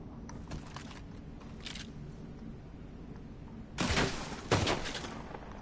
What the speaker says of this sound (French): Tirez sur trois bouteilles